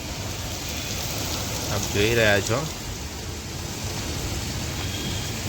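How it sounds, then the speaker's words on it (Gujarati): Heavy rain pours down outside a home in a steady, dense hiss that runs through the whole stretch, with a brief burst of speech rising over it midway. "ફાસ્ટ વરસાદ ચાલુ થઈ ગયો છે"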